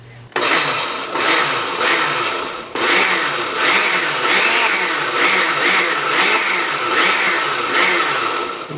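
A blender whirs loudly and steadily close by, blending spices into a paste, its motor pulsing slightly and briefly pausing midway before running on.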